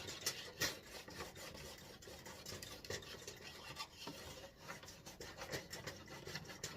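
Ski wax is scrubbed onto a ski base in quick, rasping back-and-forth strokes, close and quiet, with a dry rubbing texture and no talking.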